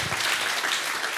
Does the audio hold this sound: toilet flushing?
no